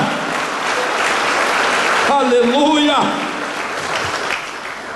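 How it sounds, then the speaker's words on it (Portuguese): A church congregation gives loud, steady applause to the Messiah, continuous throughout while a voice calls out a brief exclamation over the clapping midway. "Dê um forte aplauso ao Messias pela sua vida."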